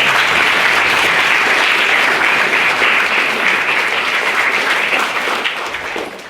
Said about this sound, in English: give Owen a big round of applause.